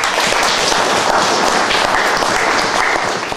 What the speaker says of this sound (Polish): Także też wielkie brawa wam.